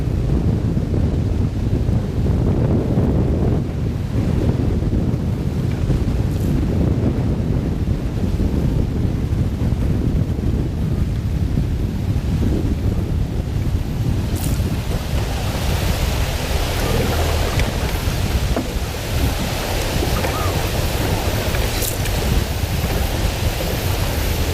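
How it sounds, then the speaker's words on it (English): Strong wind blows hard and steadily, roaring and buffeting the microphone with a constant low rumble and gusty hiss that never lets up. "That wind is cooking."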